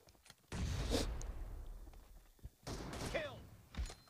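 M24 sniper rifle shots in a team deathmatch shooter game: two sharp, close cracks about two seconds apart, each trailing a brief echoing tail, with quieter thumps and clicks between them.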